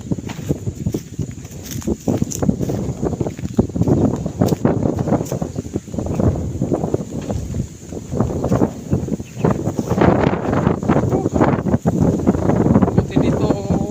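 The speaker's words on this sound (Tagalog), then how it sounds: "mahangin" Gusty wind buffets the microphone in rumbling bursts while a person talks over it outdoors.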